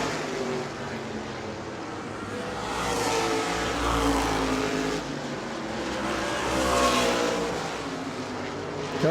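Race cars roar around New Smyrna Speedway, engines swelling twice as packs pass close by, then fading, a loud continuous drone with no voices.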